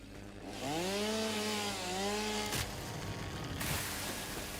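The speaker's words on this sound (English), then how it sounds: "It's actually pretty loud, the chainsaw." Chainsaw felling trees in the video game Satisfactory, a loud, steady buzzing drone running the whole way with shifting engine pitch and brief cutting surges, no talk over it.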